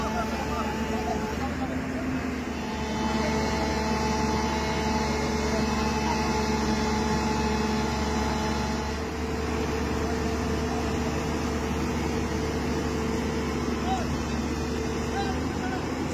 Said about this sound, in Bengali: জেসিবি একটু করে পেছাচ্ছে